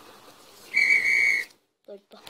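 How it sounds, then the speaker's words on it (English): A referee-style whistle is blown once in a loud, shrill, steady blast lasting under a second, followed by quiet and a brief voice. "Blow your whistle again, Bobby."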